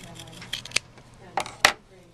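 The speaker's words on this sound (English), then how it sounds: "So now I'm going to do is cut off the fabric so that I have about 1/4 of an inch seam allowance left over" Scissors snip through fabric to trim a seam allowance in a few short, crisp cuts with quiet pauses between them, close by.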